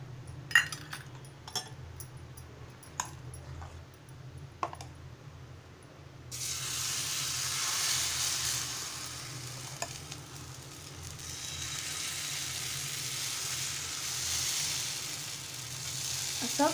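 Rice batter for Malvani-style amboli is poured onto a hot oiled non-stick griddle after a few light clinks, then breaks into a steady, moderately loud sizzle that swells and fades slightly as it cooks.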